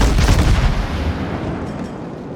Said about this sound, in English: Fire a blind shot towards the Colorado